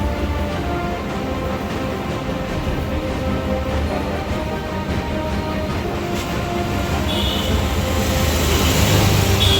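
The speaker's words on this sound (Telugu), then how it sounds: "ట్రైన్ ఏమి వెళ్ళిపోతుంది." An Indian train in a video game rolls along hauling a cement load, giving a steady, dense rumble of wheels and carriages that swells slightly toward the end, with no talking.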